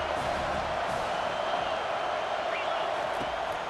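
A stadium crowd roars steadily through a college football game between Pitt and Miami as the defense faces a big third down late in the fourth quarter; the dense wash of noise holds at a constant level throughout.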